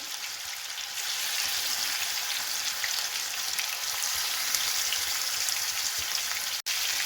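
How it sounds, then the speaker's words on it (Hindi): Marinated chicken pieces frying in a pan for Kashmiri chicken, a steady dense sizzle with fine crackling that starts up abruptly and holds evenly close by, with one brief cutout near the end. "अब इसमें हम डालेंगे ये जो हमने मैरिनेट करके चिकन रखा था, उसको ऐड करेंगे। इस तरह से सबको हम अच्छा सा हल्का गोल्डन फ्राई कर लेना है हमें।"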